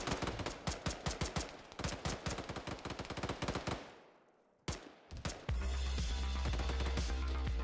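Rapid bursts of infantry gunfire in a war video game, dense crackling volleys with sharp repeated shots, a brief lull, then a sustained rumbling roar of fire and engines.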